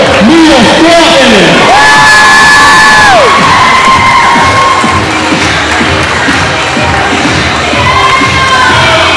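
A junior prom crowd applauding and cheering for the prom princess, loud and close, with whoops and shouts rising above a dense roar of voices throughout.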